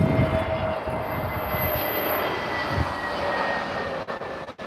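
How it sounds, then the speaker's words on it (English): A TAP Air Portugal Airbus A320neo airliner at Lisbon Airport gives off a steady, moderately distant jet engine roar with a faint high whine, no voices. "It's not an Express, it's a TAP Air Portugal, but looks like an A320 Neo."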